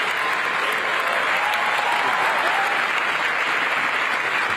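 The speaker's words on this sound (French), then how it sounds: "Le monde entier applaudit et se lève pour un accord historique." Sustained applause from a large assembly at the COP28 climate conference after a historic agreement is adopted, dense and steady throughout with no break.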